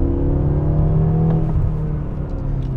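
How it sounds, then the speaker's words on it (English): A 2013 BMW M6 coupe's V8 engine gives a steady, close, droning hum with a low rumble. It holds fairly even throughout, with no voices. "this is still a V8, which is good, but you know, it doesn't sound like a whole lot"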